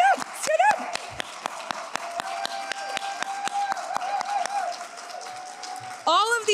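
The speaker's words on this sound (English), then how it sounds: "let's just give them a big round of applause as their names appear on the screen" Applause from the audience at a United Way Power of the Purse event for past award recipients, with sustained steady clapping from a crowd throughout and music chiming over it.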